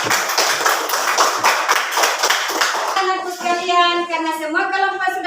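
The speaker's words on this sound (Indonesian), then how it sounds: "Beri tepuk tangan yang meriah untuk kelompok." A classroom group of students claps for about three seconds, dense and fairly loud, then the clapping gives way to voices talking.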